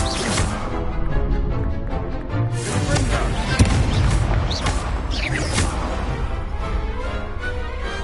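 A fire spell is cast during a dueling tournament in the game Hogwarts Legacy, with loud booming magical blasts and crackling bursts filling the scene amid game music and effects.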